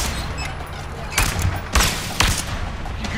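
Gunfire in the co-op action game A Way Out, a few sharp, loud shots spaced about half a second apart over a steady background rumble, with speech mixed in.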